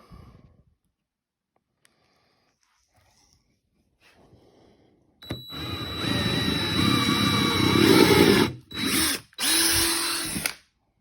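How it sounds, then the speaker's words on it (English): A power drill used to punch holes in a DIY weightlifting belt modification whirs loudly in several bursts after quiet handling noises, its motor droning steadily before stopping and restarting twice. "putting it in a drill made it a joke"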